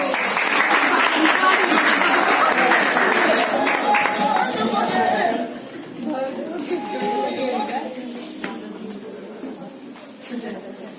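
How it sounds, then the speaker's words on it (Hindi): An audience at a women's empowerment program bursts into loud, sustained applause for about five seconds, then it thins to scattered clapping, crowd chatter and talk. "जोरदार तालियां चाहिए"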